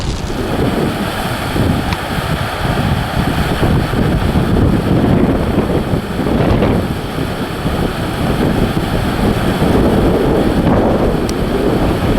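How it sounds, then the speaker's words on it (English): Heavy wind buffeting the microphone in continuous low rumbling gusts by a river, with a wash of water behind it. "Checking out the river here. Super windy."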